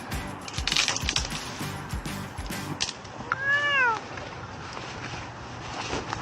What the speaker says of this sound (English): The cat's in the bag.